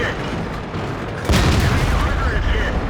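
Tank gun fire from an enemy StuG in a video game, one heavy boom landing mid-clip and followed by rumbling battle noise, with a voice talking over it.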